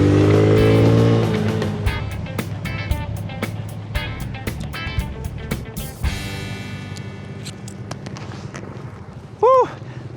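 A Suzuki Smash underbone motorcycle ridden along a road, its small engine buzzing loudly and then easing off, with a brief whistling tone near the end.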